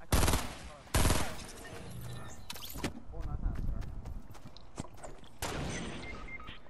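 Gunfire in Fortnite, sharp loud bursts of shots at the start, again near the one-second mark and later on, with talk around the shooting.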